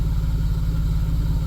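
A Toyota Highlander engine idles steadily with a low, even throb at moderate volume, close by and with no talk over it.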